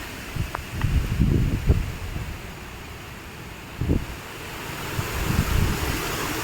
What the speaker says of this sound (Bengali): শুধু দমকা বাতাস হচ্ছে, তাই দেখো কি অবস্থা হচ্ছে